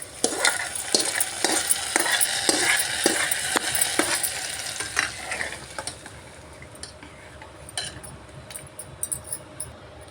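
Fried tempering poured into a pot of chicken curry and stirred in, with a burst of sizzling and rhythmic spoon scrapes against the pot that settle into a quieter simmer, no voices.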